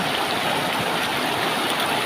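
Steady rushing of the Palakol River, a dense continuous wash with a low gurgle underneath, close by and unbroken, no voices.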